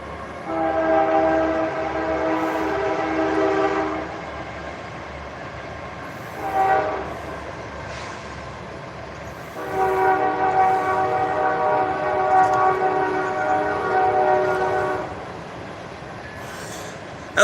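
Train horn blasts out in long sustained tones from a passing train, first for about four seconds, then a short burst, then another long blast, with rumbling rail noise underneath throughout.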